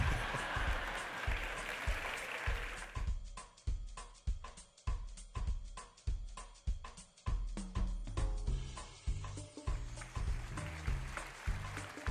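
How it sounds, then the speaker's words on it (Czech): An audience at a gathering with the Prelate in Pamplona claps along in a steady, rhythmic beat after a song, loud and close, with the claps landing at even intervals throughout. "Tleskáme té písničce."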